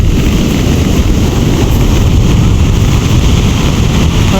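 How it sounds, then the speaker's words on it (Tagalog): Ocean surf churning close by on a very windy shore, a loud continuous roar of rushing water mixed with heavy wind buffeting the microphone, with no talking. "Ayan na po guys yung alon, no? Dito up close po guys"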